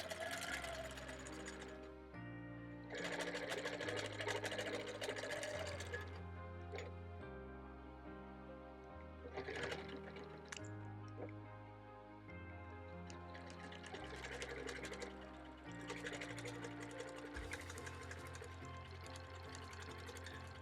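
Sewing machine stitching straight lines on a quilt, a steady rapid whirring drone in bursts that stop and restart every few seconds, close and fairly quiet.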